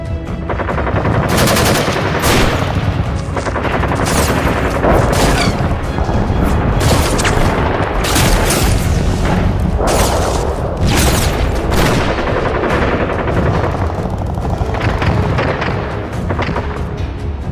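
Dense gunfire and explosions from a staged drama scene roar without pause, rapid machine-gun bursts layered with heavy booms and sharp shots, loud and close, with no voices over them.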